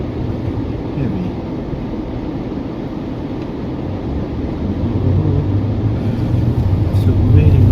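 Heavy road traffic on a lively street just before dark rumbles steadily as a low, continuous wash, growing slightly louder toward the end, with no clear individual vehicles standing out.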